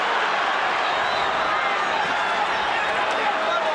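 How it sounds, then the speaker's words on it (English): Crowd at the De La Hoya vs Whitaker boxing fight, a steady, dense roar of cheering that holds without letup, with a commentator's voice running over it. "This crowd is into this."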